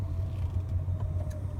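A motor vehicle on the road gives a steady, close low rumble with faint mechanical whine and no voices.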